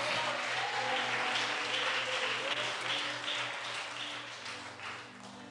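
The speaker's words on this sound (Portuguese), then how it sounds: "isso, pode aplaudir." A home church congregation claps after a pastor's invitation, a soft, diffuse patter of hands heard at a distance over a steady low hum, fading slightly toward the end.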